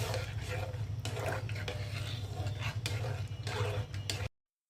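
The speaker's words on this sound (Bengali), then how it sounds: "দিয়ে দিচ্ছি কর্নফ্লাওয়ার মিক্স করে রেখেছিলাম" A spoon stirs a cornflour mixture into a pot of homemade soup, giving a steady scraping and swishing with light clinks against the pot, close and continuous until it stops abruptly.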